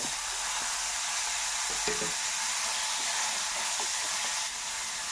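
Tomatoes frying in a pan for quick South Indian rasam, a steady broadband sizzle running throughout with a few soft stirring knocks, close and continuous with no voices.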